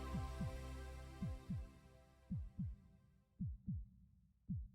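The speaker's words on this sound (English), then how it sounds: "I heard a heartbeat and I panicked" Video game heartbeat, a faint steady thudding in pairs that keeps repeating over a low hum that fades away.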